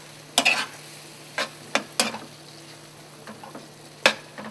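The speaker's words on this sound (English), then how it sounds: "I'm gonna stir that up." A strawberry sauce thickened with cornstarch is stirred in a pan, giving a few short, scattered scraping and tapping strokes over a faint background hum, close and quiet with no talking.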